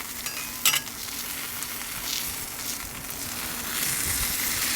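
A bone-in ribeye steak sears on a soapstone slab inside a Kamado Joe Big Joe grill, giving a steady close sizzle with a brief sharper crackle early on, no talking.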